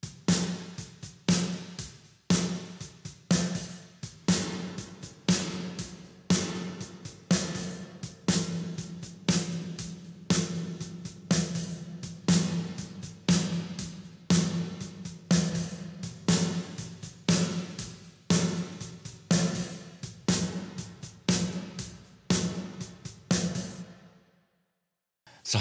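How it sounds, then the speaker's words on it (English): A snare drum played through EMT-140 plate reverb plugins strikes over and over at an even pace, each crisp hit trailing off in a short wash of reverb before the next, until the sequence ends in silence. "Now let's listen to all the reverbs after each other. You get four snare hits with each reverb."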